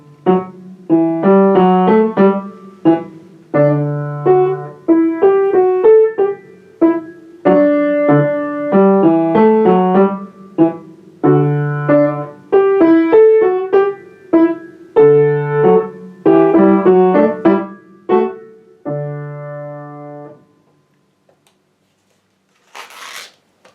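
A piano plays a finished preparatory-level lesson piece, with clear, steady melodic notes and chords over about twenty seconds, then fades into near silence with a brief noise at the end.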